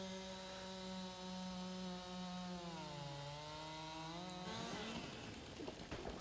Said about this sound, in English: I'm using the chainsaw at the moment,